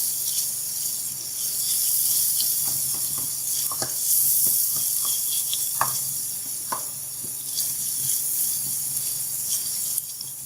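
Chicken pieces added to softened tomatoes in a pan for a gawar phali and chicken curry, sizzling steadily with faint scattered pops and crackles throughout, no voice present.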